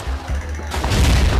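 Video game machine gun fire: a brief, loud, dense burst of rapid shots with booming low-end rumble, growing heavier toward the end of the short stretch.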